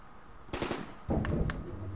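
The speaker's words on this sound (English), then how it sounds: "Gunfire. This'll not be good." Two bursts of sharp crackling gunfire in the video game Project Zomboid, the second longer and denser, over a steady hum of background ambience.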